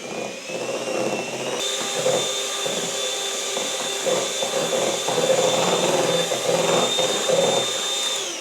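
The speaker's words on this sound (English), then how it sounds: "our pretty little hand mixer and mix until everything is combined." Small electric hand mixer running steadily while combining election cake batter, a continuous close whirring motor drone with faint rattling of beaters against the bowl, no talk.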